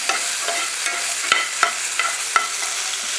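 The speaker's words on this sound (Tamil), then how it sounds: "புளி சின்னதாக ஒரு பீஸ் போட்டணும் தக்காளி ஒன்று எல்லாத்தையுமே ஒன்றாவே சேர்த்து வதக்கிட்டு" Tamarind and tomato being sautéed together in a pan for horse gram chutney, a steady soft sizzle broken by a few sharp spoon scrapes and taps.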